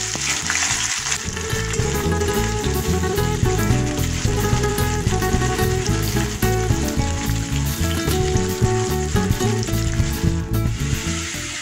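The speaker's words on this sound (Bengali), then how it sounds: "একটা পেঁয়াজ কুচনো, এটাকে আমি ভেজে নেব।" Chopped onion frying in oil in a pan for masoor dal with kalmi saag, a steady, loud, continuous sizzle close by with no talk.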